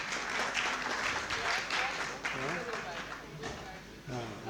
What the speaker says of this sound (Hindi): एक बार गोरखपुर वालों के लिए ताली बजा दीजिए साहब